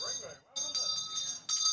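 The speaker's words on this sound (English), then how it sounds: "There's the bell." A bell rings to signal the end of play during a men's fours lawn bowls match at Naracoorte, South Australia, a steady ringing tone that repeats in bursts beneath commentators' talk.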